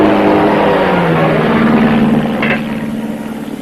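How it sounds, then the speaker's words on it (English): A propeller airplane engine drones loud and steady overhead, a rough, sputtering motor in an old 1930s western film, with the roar fading slightly toward the end. "What's the matter with that plane? That motor don't sound right to me."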